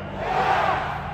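A large arena crowd at a WWE World event booing, a sustained, fairly loud, roaring wall of voices from a distance.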